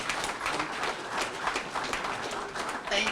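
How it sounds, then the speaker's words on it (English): Audience applause at a boxing academy dedication ceremony, a continuous moderate wash of clapping heard from within the crowd throughout. "Let's give them a big round of applause"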